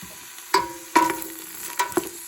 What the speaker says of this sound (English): the vegetables are starting to saute